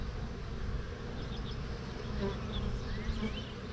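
Honeybees at a farm apiary hive drone in a steady, close buzz. It holds throughout with a few individual bees whining past nearby.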